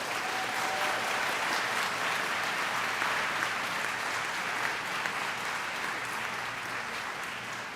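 A large audience at a high school graduation ceremony applauds for the Class of 2025, a dense, sustained wash of clapping that holds steady throughout with no speech over it.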